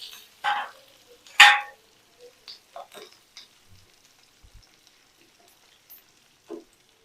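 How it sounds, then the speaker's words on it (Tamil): Crushed garlic in hot oil for a spicy chutney gives off a few sharp, sparse pops and crackles, two louder spits early on, then scattered faint ticks in near silence. "பூண்டு நல்லா வதங்கட்டும்."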